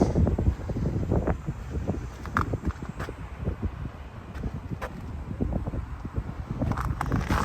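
Wind blows on a downtown street corner on a gray, cold February day in Regina, with steady low buffeting gusts rumbling against the microphone.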